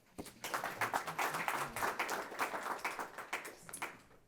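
Audience applause at an investor pitch panel as the next presenter comes up, a moderate, rhythmic patter of clapping that swells and gradually tapers off over about four seconds.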